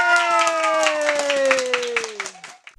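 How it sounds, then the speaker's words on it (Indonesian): An audience claps in quick, uneven bursts alongside a sustained voice or tone that slowly falls in pitch, then the clapping thins out and stops near the end. "Tepuk tangan semuanya."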